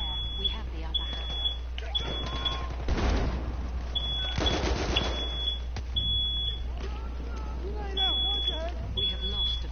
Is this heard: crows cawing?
no